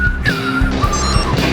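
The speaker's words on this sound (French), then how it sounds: "la circulation c'est l'enfer" Dense city traffic in Paris surrounds a car, with a loud, constant engine and road rumble and a short tire squeal or horn-like tone cutting through, and no talking.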